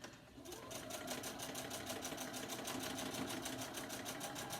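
A sewing machine top-stitching a fabric face mask with a nose wire, a fast steady mechanical patter that starts up and runs evenly throughout, close and fairly quiet.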